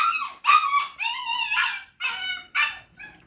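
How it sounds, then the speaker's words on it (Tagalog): Pet dogs at a home yelp, whine and howl in a quick run of close, loud, high-pitched bursts with short gaps between them, no talk over them. "andyan na yung mga aso ko"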